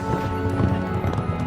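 A gaucho's horse in the Argentine pampa: quick hoof clip-clops beat in a steady rhythm close by, over a low continuous musical background.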